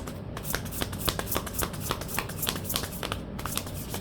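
Cards are shuffled steadily up close, a continuous crisp riffling with rapid rhythmic flutters.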